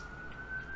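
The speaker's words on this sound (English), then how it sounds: "Sorry about the ambulance in the background, guys." An ambulance siren in a city background sounds as a faint, steady high wail, held at one pitch and far off, under low ambient noise.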